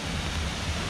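Stocking Creek Falls on Vancouver Island in autumn pours in a steady, dense rush of water, a constant broadband roar with no break or voices over a brief moment.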